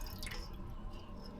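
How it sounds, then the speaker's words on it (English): Excess water draining and dripping in a kitchen sink while fish is being cleaned, a soft wet squishy trickle under low background noise, brief and close. "So I'm draining off the excess water."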